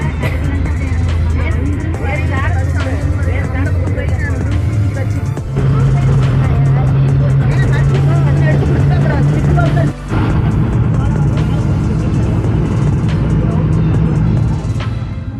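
A bus heads along the road toward Kolli Hills, its engine a loud, continuous low drone heard from inside. The pitch shifts with gear changes, and a brief dip comes partway through.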